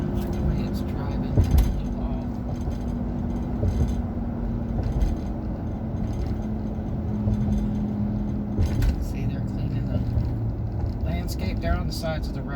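A pickup truck needing a wheel alignment drives along a Florida road, its engine and tire hum a steady low drone beneath someone talking throughout.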